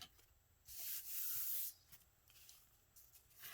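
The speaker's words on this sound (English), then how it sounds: "you still get the crinkliness of a paper sack" A paper sack crinkles and rustles close by in a few soft bursts, the longest swell in the middle, with quiet pauses between.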